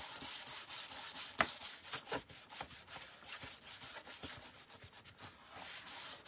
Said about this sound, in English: I have a 320 grit paper on here, and this is what you need to do. Sand it very lightly.